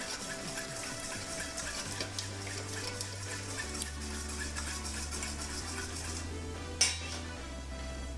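Apple cider vinegar and extra virgin olive oil being stirred together for a fried eggplant salad dressing: steady utensil scraping and clinking against a bowl with splashy liquid texture, under a low background hum, and one sharper clink near the end.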